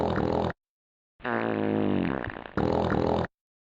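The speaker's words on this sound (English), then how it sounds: "This is like actual farts." Loud, close fart sounds in three bursts split by short silences, the middle one long, buzzy and wavering in pitch before it trails off.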